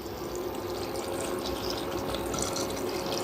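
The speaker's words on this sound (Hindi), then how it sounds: "तो ये जा रहा है हमारा पानी।" Water is poured into a pot of mutton for bhuna gosht, a steady close splashing and trickling stream throughout, with no talk.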